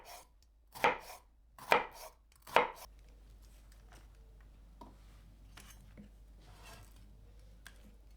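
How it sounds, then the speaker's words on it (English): A knife chops cucumber and bitter melon on a cutting board: three sharp, close chops in quick succession, followed by quieter, scattered knocks and light kitchen handling. "Cut 1 cucumber into pieces and a bitter melon."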